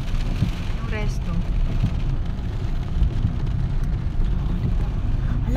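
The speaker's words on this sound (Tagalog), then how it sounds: "lakas talaga ng hangin" Strong wind roars steadily beside a cliffside restaurant during a rainy storm, a loud, broadband rush that stays constant throughout with faint rain mixed in.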